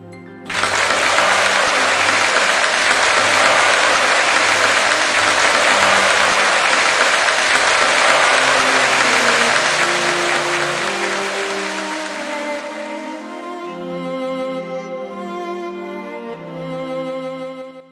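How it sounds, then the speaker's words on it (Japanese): Gathered assembly applauding to approve a family matter in an anime episode, a loud, dense roar of clapping that holds steady, then fades as soft music rises beneath and carries on alone. "ご承認いただける方々は拍手をもって承認をお願いいたします。"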